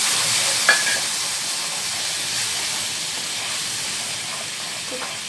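Sugar and a tablespoon of water cooking into caramel in a hot pan over a low flame, giving a steady, even steamy hiss with one small tick near the start and no voices.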